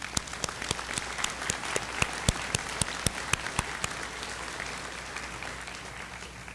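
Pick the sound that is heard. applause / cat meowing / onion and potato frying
applause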